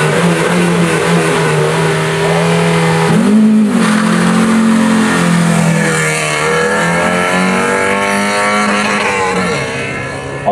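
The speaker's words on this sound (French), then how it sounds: "C'est parti pour l'Opel Manta" An Opel Manta race car launches up a historic hill climb. A loud engine revs hard and rises in pitch through the gears, then fades gradually as the car pulls away into the distance.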